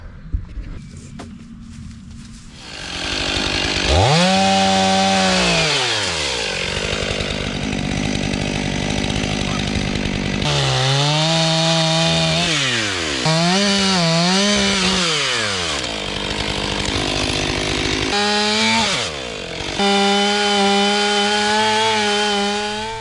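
A chainsaw cuts through maple tree wood, loud and close. The engine revs up and bogs down in repeated rising and falling sweeps as it bites into the log, then settles to a steady high drone.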